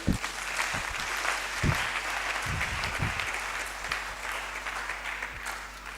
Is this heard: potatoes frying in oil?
no